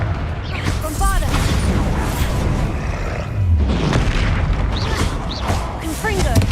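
Bombarda blasts in Hogwarts Legacy during a troll fight, loud booming bursts within a dense, continuous battle din, with shouted spell voice lines over the top.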